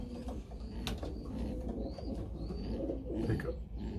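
Pigeons coo softly from box perches in a loft, low murmuring calls repeating over a steady background hum, with a few faint rustles and higher chirps mixed in.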